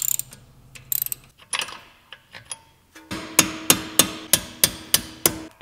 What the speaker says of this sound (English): as soon as those three goodies are out, we can go ahead and remove the brake pads.